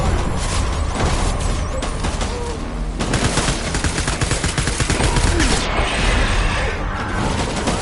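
Dense gunfire from the video game Death Stranding rattles almost continuously in loud, rapid bursts, with booms and mechanical clatter mixed into the barrage.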